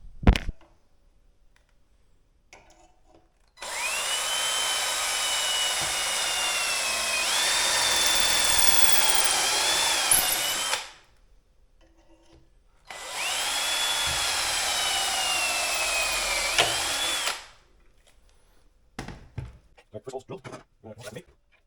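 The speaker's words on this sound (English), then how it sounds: "Let's drill the holes and see if it works." A power drill whines loudly in two long bursts, pitch rising as it bites into wood while drilling cabinet hardware holes using a jig, with short quiet pauses between and light handling noise after.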